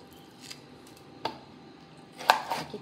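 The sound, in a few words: cutting roasted onion for watan masala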